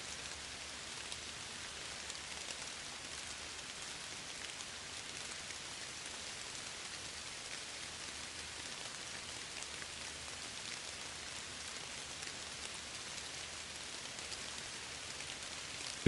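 Steady rain falls in an even, soft hiss with fine drop patter, constant and unbroken, fairly quiet and with no voices.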